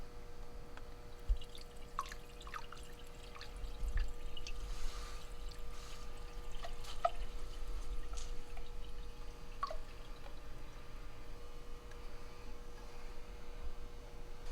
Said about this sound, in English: I'm going to go ahead and add the engine flush.